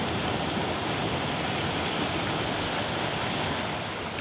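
Steady rushing water pours continuously from a small single waterfall in the Devil's Staircase Wilderness, a broad even hiss and roar nearby, with no other sounds.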